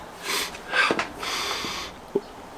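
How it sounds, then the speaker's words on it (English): Someone sniffs a glass of Panhead Supercharger-X double APA beer, giving a couple of close, breathy inhalations followed by a short snort-like breath near the end. "I just had a sniff, but let's have another one."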